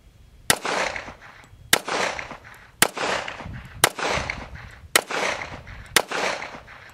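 Six sharp gunshots from a Regent R200S 1911 handgun at an outdoor range, spaced roughly a second apart, each loud crack followed by a short ringing echo.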